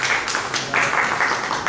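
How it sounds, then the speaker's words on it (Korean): A live audience applauds steadily at a rooftop film festival event for a film's actress, a dense, even patter of many hands with small swells throughout. "다시 한번 큰 박수 부탁드리겠습니다"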